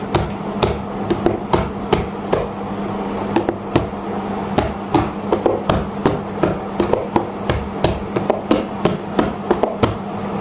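Slow, evenly spaced strokes on a rebana frame drum in a dikir barat class, each hit sharp and close, repeating steadily over a low background hum.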